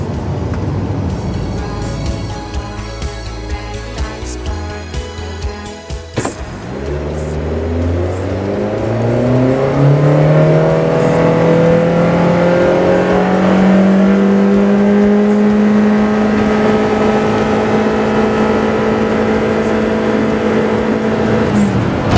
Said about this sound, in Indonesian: Dia ketika diajak berakselerasi, dia responnya nggak secepat mobil Matic pada umumnya karena dia CVT.